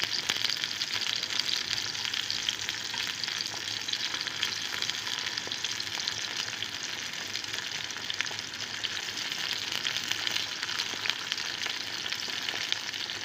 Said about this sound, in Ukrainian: Тільки смажимо одну сторону.